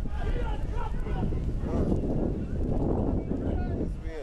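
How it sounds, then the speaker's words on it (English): Wind gusting across an outdoor football field during a game between NVCC and the Somerset Trojans, a steady, loud broadband rush buffeting the microphone, with a commentator talking over it throughout. "And we have gust of wind down here,"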